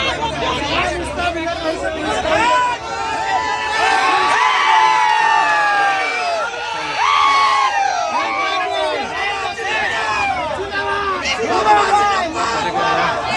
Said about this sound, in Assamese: ফূৰ্তি উল্লাসৰ এটা পৰিৱেশ হৈছে মানুহে পূৰা ফূৰ্তি উল্লাস কৰিছে